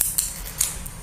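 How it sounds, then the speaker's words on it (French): Scissors cutting open a box of eyeshadow shades, with three short, sharp snips and a faint rustle in between, close by and alone. "Ciseaux."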